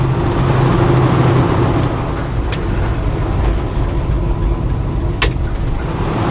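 1969 Ford F100 short-bed pickup truck driving, a steady low engine drone and road rumble throughout, with two brief sharp clicks partway through.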